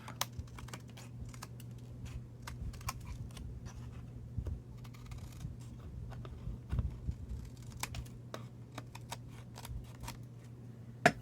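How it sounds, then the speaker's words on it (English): Scissors trimming extra bits off a craft card, a scattered series of sharp snips and small clicks, close and fairly quiet over a low steady hum with no talking. "Cut off all the extra bits."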